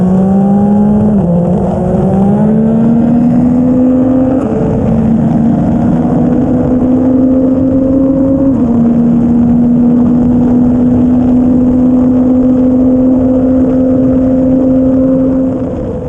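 Kawasaki Z900 and Yamaha MT-09 motorcycles on a race track, a steady loud engine drone held in fifth gear with the throttle open, pitch rising slightly in a couple of steps, continuous and close throughout.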